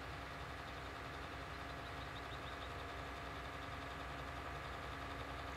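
A tractor engine in a farming video game hums steadily as it drives along a plotted Autodrive route, a constant low drone at an even, faint level without pauses or voices.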